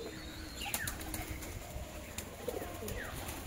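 A pigeon arriving back at its home loft, with bursts of wing flapping and soft cooing over a continuous outdoor hum, the flaps coming in short clusters at a moderate distance.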